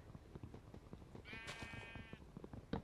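Sheep in the video game Minecraft bleat in a wavering, nasal cry that rises over a busy background of soft footsteps and game noise, clear and moderately loud.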